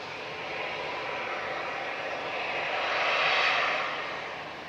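A 21-year-old Finnair Airbus A320 Classic jet roars at Manchester Airport, a broad steady engine rush that swells louder toward the middle and then eases, heard from a moderate distance with no talk.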